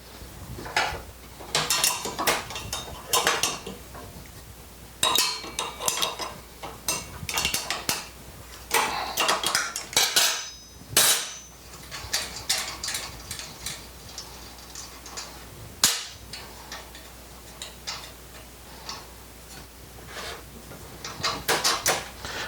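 Wrench prying a frozen blade cartridge off a SawStop jobsite table saw: a string of sharp metallic clicks, taps and scrapes in an irregular rhythm, close and fairly loud, with no talk.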